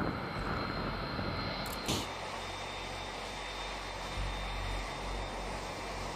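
Four General Electric CF6-80C2 turbofan engines on a C-5M Super Galaxy drone in a broad, steady roar with a thin high whine running through it, distant and even throughout.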